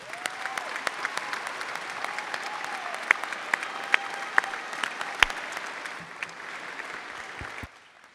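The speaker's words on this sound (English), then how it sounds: "Let's give them all one more round of applause" A school crowd applauds steadily at a National Signing Day ceremony honoring senior athletes, dense clapping sustained for several seconds before tapering off near the end.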